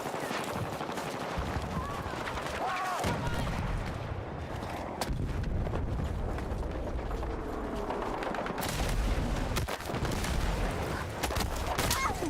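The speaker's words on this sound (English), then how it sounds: "I don't even know who's shooting at me." Dense, continuous gunfire in the Battlefield 6 video game, rapid bursts and heavy shots layered over a rumbling battlefield din for the whole stretch, loud and close with no pauses.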